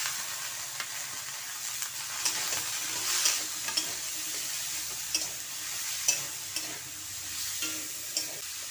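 Pointed gourd with tomato sizzles in a frying pan while a spoon stirs it, giving a steady hiss punctuated by irregular scraping and clacking strokes, close and fairly loud with no talking.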